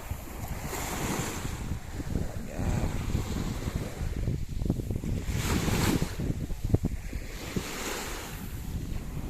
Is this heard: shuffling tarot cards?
no